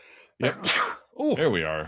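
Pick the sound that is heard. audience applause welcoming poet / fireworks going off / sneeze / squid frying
sneeze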